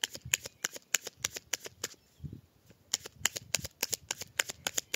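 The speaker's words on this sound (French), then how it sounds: "Allez, on fait une petite coupe avec le Béline." Belline oracle cards being shuffled and cut, with rapid close riffling flicks in bursts, a brief quiet pause partway, then more brisk card slapping and shuffling.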